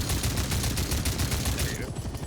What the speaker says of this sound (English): Can I take it down with my MG?